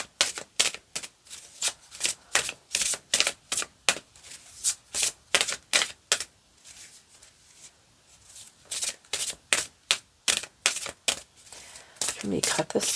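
A deck of playing cards is riffled and cut in quick repeated bursts of crisp, sharp flutters, close and loud, with short pauses between shuffles.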